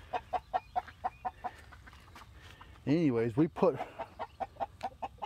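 Red backyard chickens cluck in short repeated bursts close by, with a louder squawking call in the middle, while a person talks over them.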